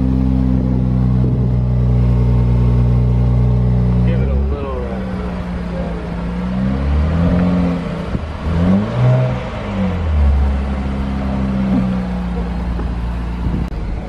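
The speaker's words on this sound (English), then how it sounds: "He went to go grab the key so we can do a cold start." A Nissan GTR started cold and revved, its engine holding a loud, deep idle up close before rising and falling through several rev sweeps.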